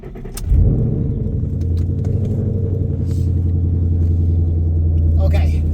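Ford Mustang engine cranking and catching, then settling into a steady, deep idle rumble close by, with a brief jingle of keys at the start and a click near the end.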